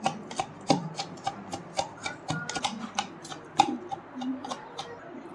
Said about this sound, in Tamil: இதை வீட்டில் நம்ம பருப்பு கடை யூஸ் பண்ணுற அந்த மத்தை வச்சு இந்த மாதிரி நீங்கள் டீப் லைட்டாக குத்திக்கோங்க.